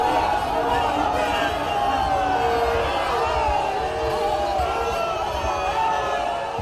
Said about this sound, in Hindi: गोदौलिया पर मौजूद सैकड़ों लोगों ने मोदी मोदी के नारे लगाकर उनका स्वागत किया